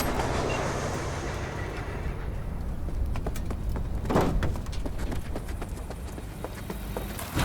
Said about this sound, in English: the train's leaving